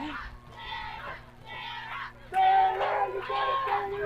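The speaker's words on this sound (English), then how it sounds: "Crowd cheering on Sarah Hart." Spectators at an Olympus vs Brighton girls' high school lacrosse game cheer and shout from the stands, a mid-level crowd roar that swells louder partway through, with individual voices yelling over it.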